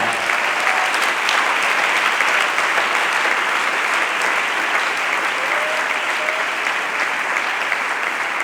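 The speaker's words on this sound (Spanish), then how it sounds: "Un aplauso al Señor de verdad" A congregation at a church service applauds in praise of the Lord, a loud, dense and unbroken round of clapping that holds steady throughout with no voices standing out.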